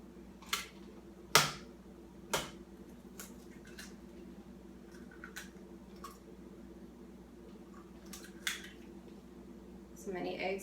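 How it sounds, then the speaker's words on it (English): Two eggs cracked into a bowl of homemade chocolate chip cookie dough, a few sharp crisp taps and cracks spaced apart, quiet and close, followed by faint handling noises. "So go ahead and crack 2 eggs in there."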